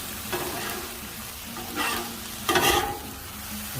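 Shrimp sizzle on a Blackstone griddle as cilantro is stirred in, with a few scraping spatula strokes over a constant frying hiss.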